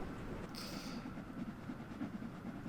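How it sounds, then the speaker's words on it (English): A train passing in Train Sim World 2 rumbles and clatters steadily, with a brief brighter hiss near the start, a continuous low rail roar without talk. "Oh, there was another train passing there."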